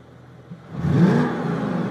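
A stock Audi S5 4.2 V8 Quattro with its exhaust valves closed gives one fairly muted rev, swelling up and then holding at a steady hum with no talking.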